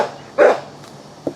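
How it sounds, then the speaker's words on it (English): A backyard dog barks once loudly at cats, then gives a shorter, fainter yip about a second later, against a quiet outdoor background. "pardon the dog barking."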